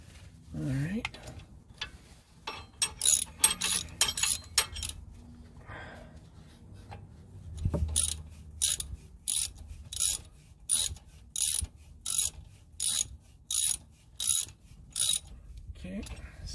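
A ratchet tightens a bolt during rear brake service on a 2016 Acura TLX, with bursts of rapid clicking, then a long run of evenly spaced ratchet strokes, close and under intermittent talk.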